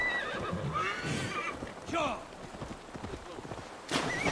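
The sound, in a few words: horse neighing and hooves, video game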